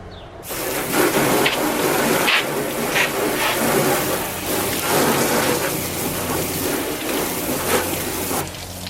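Water from a hose spraying steadily onto a car's surface during a rinse, a continuous close wash with small fluctuations in intensity and no talking.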